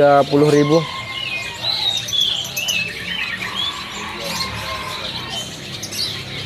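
Loper canaries singing at a stall in the Pramuka bird market, with high chirps and warbling trills over busy market noise; someone talks briefly near the start.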